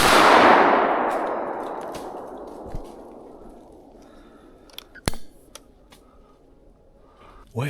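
A single-shot 16 gauge shotgun fired while squirrel hunting in the woods: one loud, close blast at the start that rings out in a long, fading echo, followed by a few faint knocks.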